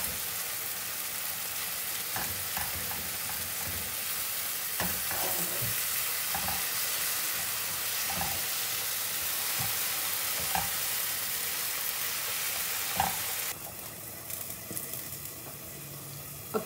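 Tomatoes and onions cooking in a pan for a curry gravy, a steady sizzle with occasional stirring clicks and scrapes throughout, growing slightly brighter near the end.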